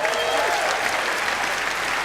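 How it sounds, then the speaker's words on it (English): Comedy club audience bursts into dense, sustained applause and cheering, loud and close, filling the whole moment. "Give it up for Brittany, everybody"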